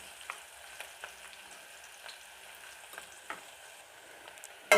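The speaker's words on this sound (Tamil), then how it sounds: "இந்த வெங்காயம் நல்லா வதங்கணும் வெங்காயம் நல்லா வதங்கட்டும்" Onions sautéing in a pan for sambar, a soft steady sizzle with light scattered crackles and stirring scrapes, fairly quiet and with no talk.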